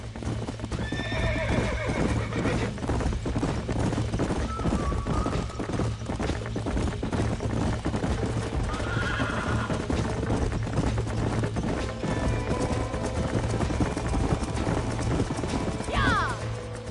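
Horses in the Red Dead Redemption video game, with loud rhythmic clip-clop hoofbeats of galloping continuing throughout, punctuated by several sharp neighs and whinnies, amid steady game ambience.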